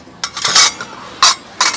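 Steel spoons clink against small bowls in three short bright bursts of clatter, close and fairly loud, spaced apart with quiet between.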